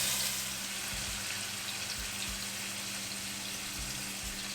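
Small bite-sized marinated chicken pieces cook in a pan, giving a steady, moderately loud sizzle and wet frying hiss with occasional soft low thumps, heard alone without talk.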